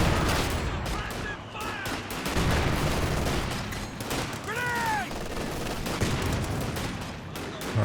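Rapid bursts of machine gun fire and scattered gunshots fill a Company of Heroes 2 battle, layered with distant explosions, rumbling combat noise and brief whistling shells, with a voice talking faintly underneath.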